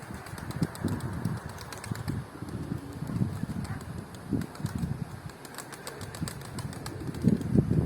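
Pigeons flying out of a coop, wings flapping in repeated bursts close by, with soft cooing and low rustling in the background.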